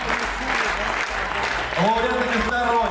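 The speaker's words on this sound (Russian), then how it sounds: "овации ваши должны быть самыми яркими сегодня" Applause and ovation from the audience fill a gala concert at the Gatchina House of Culture accordion festival, a steady wash of clapping with a voice speaking over it in the final second.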